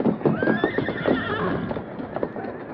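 A horse on a trail clip-clops with quick hoofbeats while a shrill, rising whinny cuts through near the start, loud and close, with faint voice in the background.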